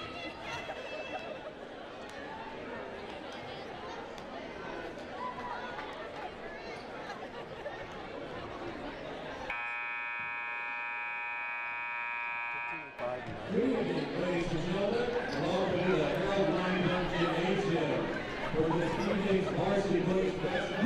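Crowd of Knox students packed into a gymnasium on senior night at a varsity boys basketball game: steady murmuring chatter, a loud sustained buzzer cutting in midway, then livelier babble resuming, with voices talking throughout.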